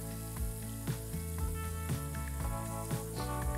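Leskovac-style uštipci dough fritters fry in hot oil with a soft, crackling sizzle, faint and close. The sizzle sits under recurring plucked musical notes that dominate the mix.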